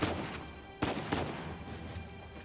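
Blind-fire gunshots in the video game Uncharted 4: a few sharp, loud reports in quick succession, separated by short pauses, over a dense layer of game background noise.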